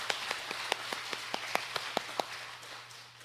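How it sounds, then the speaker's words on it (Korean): Clapping in a church service, heard as a slow, evenly spaced series of about ten distinct claps that fade out toward the end over a low steady hum. "하나님께 영광의 박수 올려드리겠습니다"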